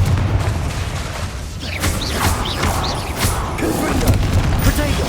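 Repeated spell explosions from the Confringo fire spell in the Hogwarts Legacy video game, loud bursts with whooshing streaks over constant battle din and mechanical clatter, several hits in quick succession.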